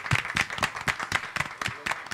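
Audience applause for a singing duo at a show, steady dense clapping with distinct individual claps standing out, moderately loud and close, about two seconds long.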